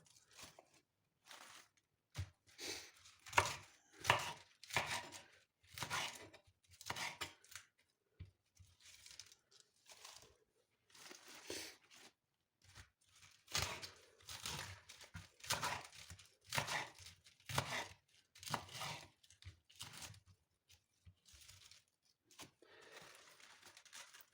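Crisp lettuce being chopped with a knife for a salad, a run of crunchy, tearing cuts in quick bursts with short pauses between, close and fairly quiet.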